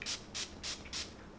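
Farsali Rose Gold Mist setting spray is pumped in four quick, evenly spaced hissing bursts, close and fairly soft.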